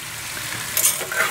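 Potatoes fry and sizzle in a Dutch oven while being stirred, giving a steady hiss with a few scraping clinks of a utensil against the pot near the end.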